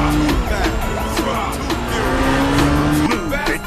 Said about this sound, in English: Car chase in London!